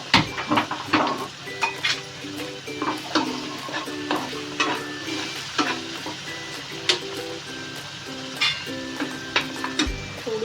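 Gravy masala hits very hot oil and sizzles steadily for paneer curry, with frequent spatula scrapes and taps against the pan in an uneven rhythm, close and fairly loud.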